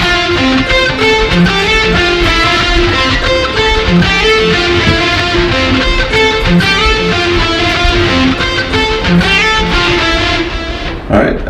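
Electric guitar playing a lead melody that sets up a solo, a steady, looping, moderately distorted line that stays loud and close for the whole passage before cutting off at the end.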